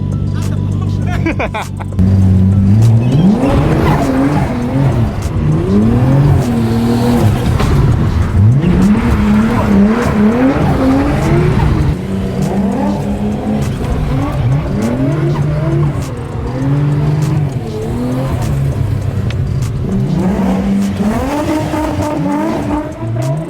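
An engine revs and wails while tires squeal in long, repeated screeches, loud and close, with voices faintly mixed in.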